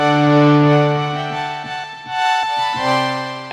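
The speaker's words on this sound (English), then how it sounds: "that's like a cheesy type of string machine type of sound." A Mercury 4 bowed strings ensemble preset on a synth gives a cheesy string-machine tone, sustained chords with steady harmonics that change through a few held notes, played alone with no talk.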